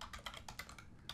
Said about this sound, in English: I'm going to type in the command sudo